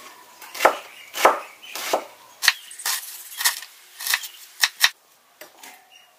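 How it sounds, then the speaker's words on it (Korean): Kitchen knife slicing onion and mushrooms on a cutting board, a dozen or so sharp, crisp chops in an irregular rhythm, close up, with no talking. "양파 썰고 버섯도 썰고 준비해 볼게요"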